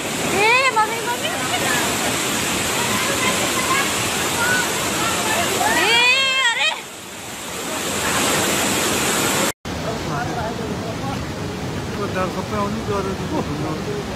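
Floodwater rushes loudly and continuously during heavy monsoon rains in Manang, Nepal, a dense roar with voices calling out over it and a brief break near the end.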